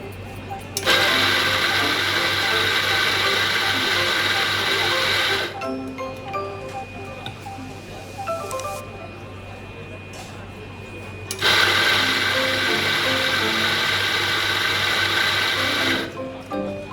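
Fiorenzato F64 Evo coffee grinder running in two loud sustained bursts, its motor whirring and grinding with a quieter mechanical stretch between them as the grind is set one click coarser.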